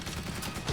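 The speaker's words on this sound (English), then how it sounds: "Fire up the T-shirt cannon, fella." A T-shirt cannon fires at a 2015 Ashes cricket Test at Trent Bridge, a sharp burst of air near the end of a steady, noisy crowd-like wash.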